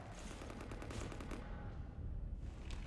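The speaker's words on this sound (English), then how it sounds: "You want to stop shooting up my ship?" Sustained automatic gunfire from the Mass Effect 3 video game, a dense rapid rattle of shots that briefly thins midway before resuming, with no talking.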